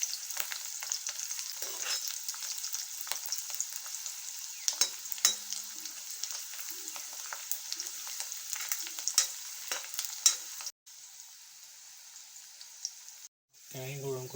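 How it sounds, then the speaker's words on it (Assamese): Garlic and onion fry in a wok with a continuous close sizzle, broken by frequent scraping stirs and clatters. Near the end the sizzle cuts out briefly and a voice comes in. "নহৰু পিঁয়াজ দি পেলাই ভাজি লৈছোঁ ভালদৰে।"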